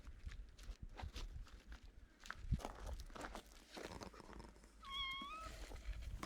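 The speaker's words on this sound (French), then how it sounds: "Ouais, on a un chat peureux." A cat gives a short, clear meow near the end, following soft shuffling and footstep-like movement in a quiet room.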